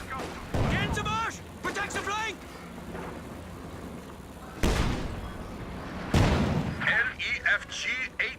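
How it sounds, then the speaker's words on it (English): LEFG 18 howitzer artillery fires in a video game, with sharp booming blasts landing at intervals amid rumbling battle noise, while a voice talks over the opening seconds. "LEFG 18 howitzers stand ready to fire."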